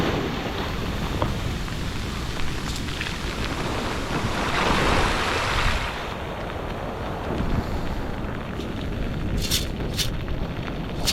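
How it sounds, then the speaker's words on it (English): Stormy ocean surf and wind in a hurricane roar steadily, with broadband rushing noise and gusts buffeting the microphone throughout. "The swells are definitely picking up."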